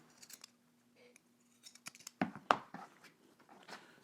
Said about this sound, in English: I'm going to trim some of this down.